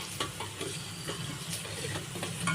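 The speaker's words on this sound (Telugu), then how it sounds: "మజ్జిగ పులుసులోకి పోపు అయితే వేగుతుంది" Tempering spices (popu) crackle in hot oil for Telugu buttermilk curry (majjiga pulusu), giving a steady close sizzle with sharp pops and stirring clicks scattered throughout and no talking.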